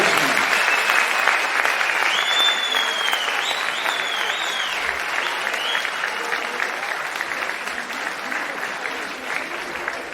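Sustained applause from a crowd, steady and fairly loud, with a few whistles rising above the clapping.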